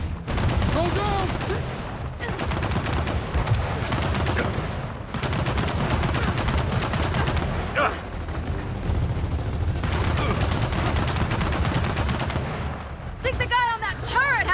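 Sustained, loud turret gunfire in the shooter game Gears of War 4, a dense, unbroken roar of rapid shots with brief dips, and faint shouting voices near the end.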